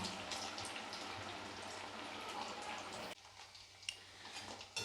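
Chicken pakoda deep frying in hot oil, a steady soft crackle and bubbling sizzle close by, dropping briefly quieter partway through before the crackling resumes.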